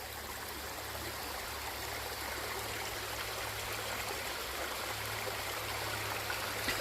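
Water rushes steadily down a stream in Linn Run State Park in Rector, Pennsylvania, a continuous broad flowing hiss at low volume with no voices.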